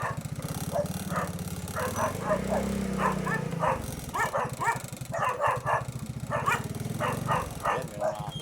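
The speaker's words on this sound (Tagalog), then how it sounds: "Ayan, may mga aso." Several dogs bark in a fairly steady run of repeated barks close by, with a low engine-like hum underneath throughout.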